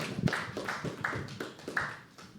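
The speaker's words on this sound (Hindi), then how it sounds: "एक बार जोरदार तालियों से हम बुलाएंगे तारिक को दोस्तों" A poetry open mic audience claps, with a handful of separate, fairly soft taps spread across a couple of seconds. The response sounds sparse and thin rather than a full burst of applause, and no voices speak over it.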